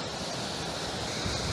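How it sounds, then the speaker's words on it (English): Grey Mare's Tail waterfall in Scotland roars as a steady, dense, broadband rush of falling water, loud and close, with some wind buffeting the microphone and no talking. "You see the ferocity of that water."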